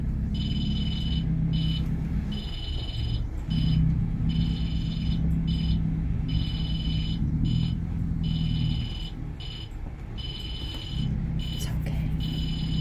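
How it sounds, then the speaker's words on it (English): A boat's electronic alarm tone beeps steadily over a loud rumbling engine drone, shortly after leaving a marina, continuing for several seconds with brief gaps. "the alarm started going off on the boat."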